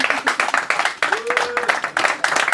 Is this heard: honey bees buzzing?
no